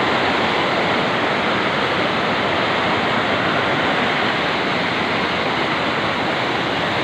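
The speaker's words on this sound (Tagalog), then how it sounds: "Sa bandang itaas may falls." A waterfall and rushing mountain stream roar in a dense, unbroken wash of white water, loud and close throughout with no voices or pauses.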